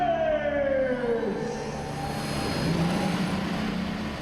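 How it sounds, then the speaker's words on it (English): Race car engines fire up at the start of a race, a loud revving tone sweeping downward early on, then settling into a rough, steady idle roar. "Drivers, start your engines!"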